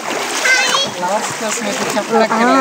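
Footsteps splashing through shallow stream water at the Penchalakona waterfalls, with close, irregular splashes and a voice and other talk running over the water noise.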